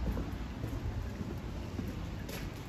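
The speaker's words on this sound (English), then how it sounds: "The rain is easing off now, which is pretty good." Rain easing off during a city walk makes a dense, continuous wash of noise with low rumble, likely wind buffeting the microphone, at a steady level with no talking.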